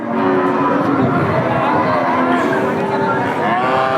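Cows and calves lowing amid a crowded cattle market, drawn-out moos rising over a constant murmur of many people talking.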